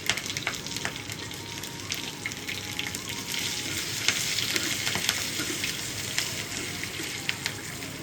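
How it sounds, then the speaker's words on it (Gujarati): Mustard seeds, cumin, curry leaves and green chillies crackling in hot oil for a tempering, a busy sizzle scattered with sharp popping crackles throughout, close and moderately loud, without speech. "રાઈ પ્રોપર સરસ મજાની તતડવા આવે એટલે તરત જ આપણે થોડું જીરું એડ કરશું વઘારમાં"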